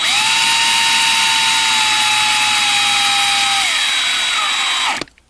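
A power drill bores out the rivets on a 1/64 scale diecast race car, a steady high whine held for several seconds, dipping slightly in pitch before cutting off abruptly near the end, close and loud with no talk.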